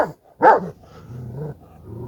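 A male dog lets out a short, sharp bark up close, followed by a low, rumbling growl that continues in uneven bursts, loud and near with no talking.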